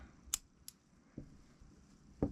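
Scissors cut crochet yarn on an amigurumi jellyfish: a few faint, brief snips spaced apart in a quiet room.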